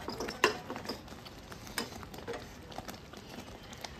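A spoon stirs sugar syrup in a pan for a sweet-sour raw mango dish, giving faint, scattered scrapes and light taps against a quiet background.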